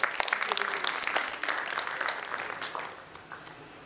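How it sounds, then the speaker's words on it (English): An audience in a convention hall applauds a speaker, Praveen, at the Shakti Summit of the Hindu Economic Forum in Pune District: dense, fairly close clapping that swells briefly, then gradually thins and fades. "A warm applause for Praveen sir."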